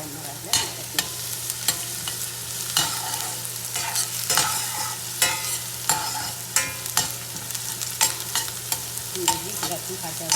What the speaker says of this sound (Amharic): እንጠብሳለን። ነጭ ሽንኩርት እንጨምራለን ማለት ነው።